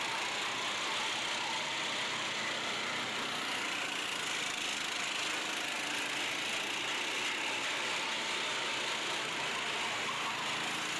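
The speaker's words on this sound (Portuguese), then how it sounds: "Passa, acelera, bota a potência no motor." A go-kart engine drones steadily at a distance during a kart race, holding a constant buzzing tone throughout with no clear rise in pitch.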